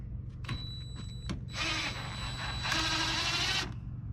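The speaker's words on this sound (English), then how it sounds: "Gotta sand all the way." Hand sanding of wood, a raspy broadband scraping in strokes that grows steadier and louder midway, with a few short scrapes at the start and a faint steady hum underneath.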